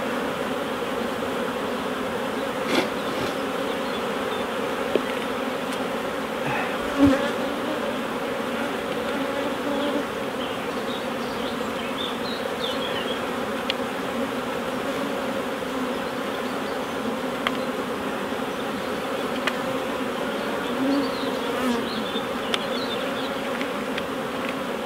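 A dense swarm of honey bees on a queen-rearing frame hums steadily and loudly throughout, a continuous close buzz with a few brief knocks.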